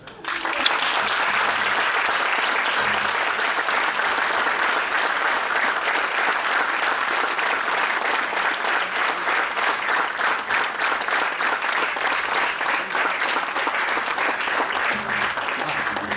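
A stand-up comedy audience breaks into a dense, steady round of applause that carries on evenly for many seconds, loud and close, with no voices over it.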